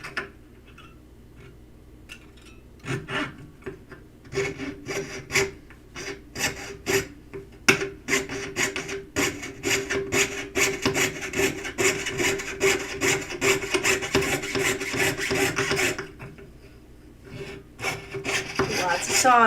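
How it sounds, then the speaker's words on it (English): Hand sawing a design out of a metal ring with a jeweler's saw, rapid rasping back-and-forth strokes in an uneven rhythm, close and steady with a short pause near the end. "here I am just going to saw out this design"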